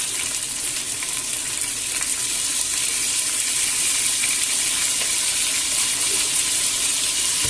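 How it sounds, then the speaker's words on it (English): Pork ribs fry in a pan, giving a loud, continuous, dense sizzle with faint crackles scattered through it, close up and without any talking. "I will let them fry there until they're golden brown"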